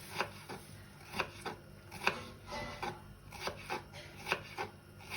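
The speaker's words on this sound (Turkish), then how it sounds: "şu incelikteki patateslerimizi Kibrit çöpü kıvamında ben jülyen" Knife julienning potatoes into thin matchsticks on a board, a regular series of crisp close chopping taps, about two per second, with no speech.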